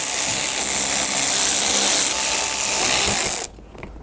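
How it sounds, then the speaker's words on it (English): A wrench or ratchet turning the seat bolts on a Lexus LS400 gives a steady, loud mechanical grinding for about three and a half seconds, then stops abruptly, leaving quiet. "So I want to see if I loosen them, that I can take the entire seat back off."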